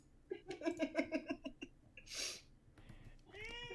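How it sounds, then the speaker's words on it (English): A house cat meows insistently in a quick run of short, rhythmic cries nearby, followed by a breathy pause, then a voice speaking briefly. "Sounds like Kitty has a point to make."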